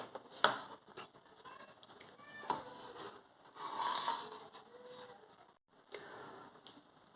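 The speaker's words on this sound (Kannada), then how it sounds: "ಈಗ ಬನ್ನಿ ಕಟಿಂಗನ್ನು ಮಾಡ್ಕೊಳ್ಳೋಣ" Scissors cut through blouse fabric in a quiet tailoring setting: faint, scattered crisp snips and clicks with soft rustling between them, spaced irregularly across the stretch.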